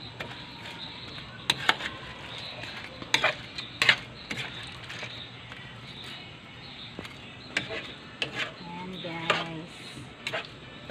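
Shrimp being sautéed with garlic in a pan, with a soft steady sizzle beneath scattered clinks and scrapes of a utensil stirring against the metal, moderately close.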